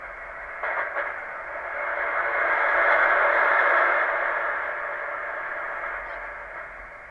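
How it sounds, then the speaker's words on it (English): A Heathkit HW-101 receiver tuned to the 80 meter band gives off a broad hiss of radio static that swells gradually to a peak and then eases back, steady and fairly loud. "So listen to the static."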